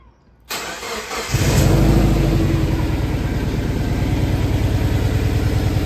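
A turbocharged car engine fires up just after its exhaust manifold was repaired: a brief whirring crank, then a loud catch and a steady, even idle held close by with no voices.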